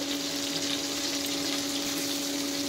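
Onion and capsicum frying in a pan for fried rice, a steady loud sizzle with a constant hiss and a faint hum, with no voices.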